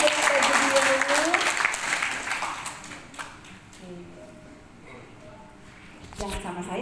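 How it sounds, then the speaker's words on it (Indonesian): An indoor audience at a motivation and leadership training workshop breaks into loud clapping that fades out after about three seconds, leaving a quieter room with faint taps and a brief voice near the end. "Tepuk tangan dong, Ibu dengan baju biru"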